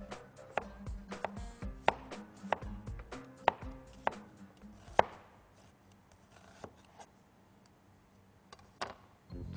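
An onion is finely sliced with a knife on a cutting board: a quick, steady run of crisp, close cuts that thins into softer, scattered taps toward the end.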